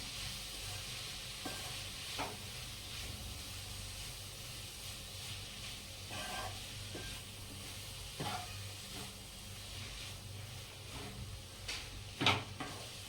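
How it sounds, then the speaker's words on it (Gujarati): Carrots roast over a low gas flame in a pan for carrot halwa, a faint steady sizzle with occasional scraping stirs and soft clinks of the spoon, close and quiet throughout. "ધીમા ગેસે ગાજરને થોડી વાર શેકવાના દસ એક મિનિટ"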